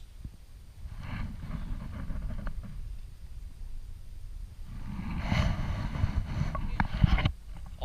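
A kayak is paddled across a tidal ford, the low-tide road to the island of Eilean Shona, giving soft water swishes and a couple of sharper paddle splashes under steady wind rumble.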